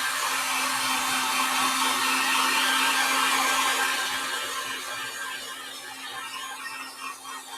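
A hair dryer blows steadily over a freshly painted acrylic sign or door hanger, a loud continuous whir with a steady hum that eases slightly toward the end, no talking.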